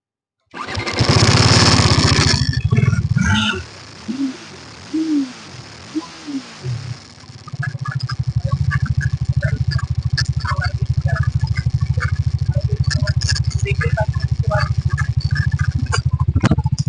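A TVS Apache RTR 310 motorcycle exhaust, recorded close with a mic at the pipe: a loud engine start and a few sharp revs, then a steady, deep idle rumble that holds to the end.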